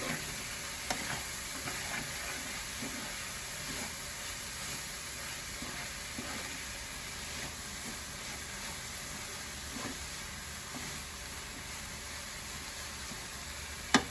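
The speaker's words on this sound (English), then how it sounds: "And then I'm going to mix this up real good." A potato filling with sofrito is stirred in a hot pan, a steady sizzling hiss running throughout with soft intermittent scraping strokes of a utensil, fairly close, and no talking.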